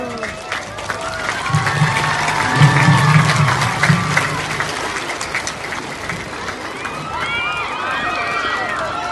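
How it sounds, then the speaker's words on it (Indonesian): A crowd claps and cheers at an outdoor Indonesian Independence Day flag-raising, a rolling burst of applause peaking early and then thinning into scattered claps amid voices calling out. "Tepuk tangan."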